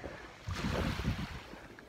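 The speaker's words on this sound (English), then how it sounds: "I think Harry can uh, hear the water." Ocean waves wash onto the shore in a broad, rushing swell that builds midway, with wind buffeting the microphone and no talk.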